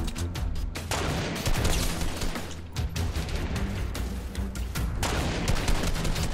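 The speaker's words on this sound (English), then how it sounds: "I'm getting shot." Rapid, loud gunfire from the video game Fortnite, dense overlapping bursts and shots continuing without pause for several seconds.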